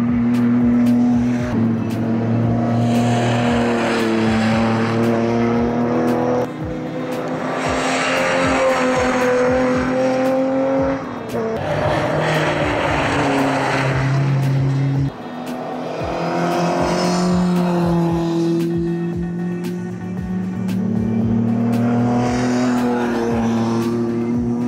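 Classic sports cars such as Cobra, Jaguar, Aston Martin, Ginetta, Austin-Healey and Lotus racing at the Montjuïc circuit in the Espíritu de Montjuïc event, with loud engines rising and falling through repeated revving passes and gear changes.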